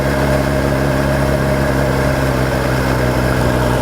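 A motorcycle engine runs steadily while being ridden, a continuous loud drone with no break in rhythm and no talking.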